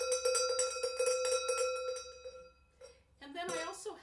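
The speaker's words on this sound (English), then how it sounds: "This is an elephant bell." An elephant bell is struck repeatedly in quick rhythmic shakes, a bright metallic ringing with sustained overtones that fades out, followed by a person talking.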